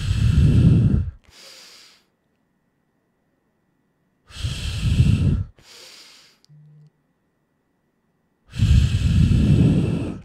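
A person takes deep, loud breaths close by, three long inhalations each followed by a softer exhale, separated by silent pauses.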